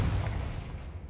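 Confringo fire spell blasting in the Hogwarts Legacy video game: a single loud, booming burst at the start that rumbles and fades over about a second.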